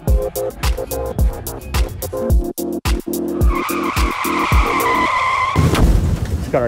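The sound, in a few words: car tires skidding and spinning, stuck in dirt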